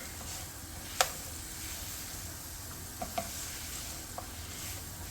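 Vegetables sizzle steadily as they fry in a roux for crawfish étouffée, with a few sharp clinks of a utensil stirring the pot standing out over the continuous hiss.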